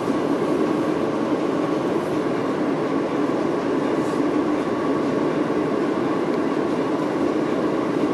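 Steady interior rumble of a commuter train running along the line near Bowie State, continuous wheel and car noise with faint rhythmic clatter, close and fairly loud, no voices.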